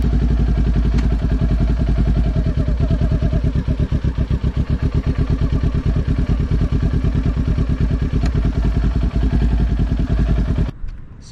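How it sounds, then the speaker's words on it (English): A Kawasaki Ninja 400 motorcycle idles forward on the clutch with no throttle, a close, steady low-pitched putter of rapid even exhaust pulses running unchanged for about ten seconds before cutting off abruptly. "I just fully let out the clutch, and no stalling, no killing the bike at all, no use of throttle"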